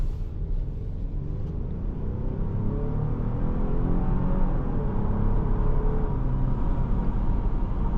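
A 2026 Genesis GV70 2.5T SUV engine builds steadily as it accelerates, a continuous low rumble and rising whir heard from inside the cabin, with no talking.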